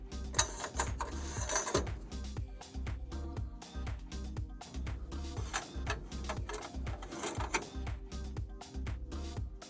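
Screws being undone on the leg of an offroad caravan's slide-out kitchen, giving a steady run of small clicking, ratcheting mechanical ticks that repeat through the whole stretch at close range, with no talking.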